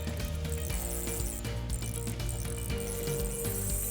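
Reel drag ratcheting in a steady, continuous buzz as a kahawai hooked on a small jig runs line off, loud and close with no talking.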